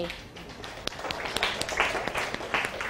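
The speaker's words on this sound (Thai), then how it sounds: "ปรบมือตัวเองหน่อย" Students in a Thai secondary-school language class clap for themselves, starting as scattered single claps and building into a looser patter, with a voice speaking faintly underneath.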